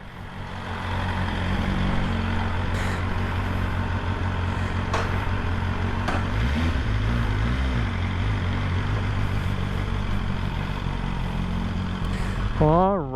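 A 2023 BMW M1000R motorcycle being ridden, its engine droning steadily and loud with a rising rev toward the end, wind rush in the background.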